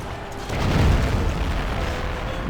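Cannon fire from a military unit attacking an enemy in the strategy game Anno 1404, a deep rumbling boom that swells and lingers as a muffled roar, moderately loud, with no speech.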